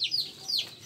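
Japanese bantam rooster (ayam katek) with starling-pattern plumbing crowing in a short, high, squeaky burst of two or three rapid notes, close and fairly loud.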